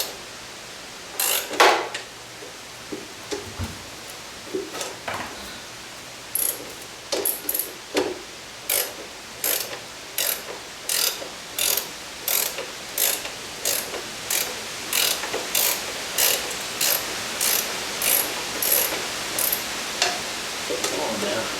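A ratchet clicks in steady, rapid bursts while removing bolts from the firewall of a Rolls-Royce Phantom III during restoration. A couple of louder clunks come first, then a long close run of regular ratcheting strokes.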